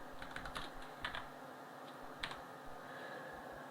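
Fingers tap a computer keyboard in short, quiet bursts of close clicks, with a pause midway and then a few more keystrokes over a faint room hum.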